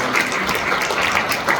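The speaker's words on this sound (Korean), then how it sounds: "축복의 박수 또 격려의 박수" Brief burst of congregation clapping in a church during a Methodist service honoring retiring and newly installed elders, steady and moderately close.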